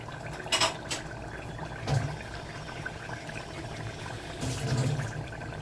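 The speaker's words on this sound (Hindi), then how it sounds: "अब हम इसमें पानी डालेंगे जितना हमको रखना है" Water poured into a pot of okra and mutton curry, a low, steady liquid pouring and bubbling with a few louder splashes and clinks.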